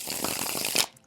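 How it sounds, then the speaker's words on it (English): A deck of playing cards is riffle-shuffled in one quick, dense burst of papery flutter lasting under a second, close and moderately quiet, ending in a soft snap. "I'm going to shuffle this one more time now that I'm chatting."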